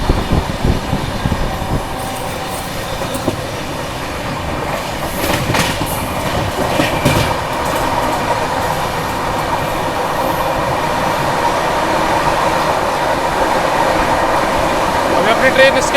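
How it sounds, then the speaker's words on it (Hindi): The Dibrugarh Rajdhani Express rolls along the tracks, a steady loud rumble with rhythmic clickety-clack of wheels over rail joints and occasional metallic squeals, continuous for the whole stretch. "ट्रेन स्किप कर रही है डालोल का रेलवे स्टेशन।"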